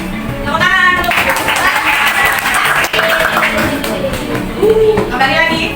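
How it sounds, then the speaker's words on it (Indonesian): A class of young pupils claps their hands together during a lesson, a dense burst of applause running under a teacher's voice and children's chatter throughout. "Tepuk tangan."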